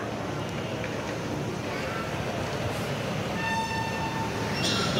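A passenger train passes in Indonesia's Jakarta operating area, a loud, steady rolling rumble that fills the whole stretch, with faint horn-like tones rising near the end.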